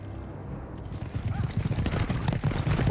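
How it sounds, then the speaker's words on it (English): Horse hooves clip-clop in The Witcher 2 video game as a rapid, uneven patter that builds and grows louder toward the end, mixed with low background rumble and a voice talking. "Horses."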